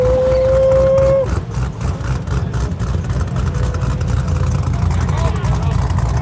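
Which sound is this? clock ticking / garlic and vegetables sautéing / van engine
van engine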